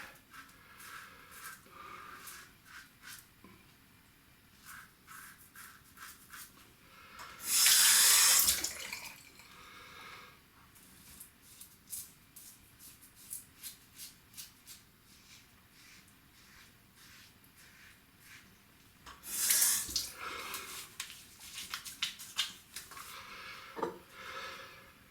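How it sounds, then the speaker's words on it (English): Water runs steadily from a bathroom sink tap for a face wash, with two louder gushing surges as hands splash under the stream, close by and without talk. "time for a face wash"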